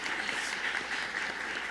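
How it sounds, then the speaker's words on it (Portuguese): Brief burst of audience applause for panelists at a Brazilian autism acceptance panel discussion, many hands clapping in an even, steady patter, moderately loud in a room. "Gente, vamos bater uma palma para ele"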